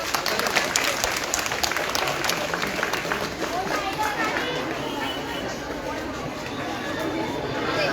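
A crowd gives sustained, dense applause with cheering chatter mixed in at a felicitation programme for IIT and NEET qualified students in Islampur. The clapping stays loud and steady from start to finish.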